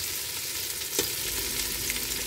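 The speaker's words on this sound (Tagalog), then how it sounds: "Haluin sa para magpula-pula" Adobo frying in a pan gives off a continuous close sizzle, with a brief stirring scrape cutting through the hiss.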